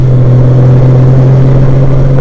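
A Honda Goldwing motorcycle engine runs loud and close with a steady low drone as the bike sets off for a ride, with no talk over it.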